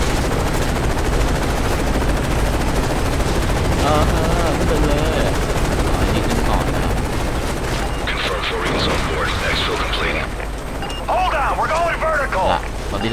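Gunfire in Call of Duty: Modern Warfare 3 single player, rapid bursts of automatic fire and shots over loud game action, with a voice talking over it.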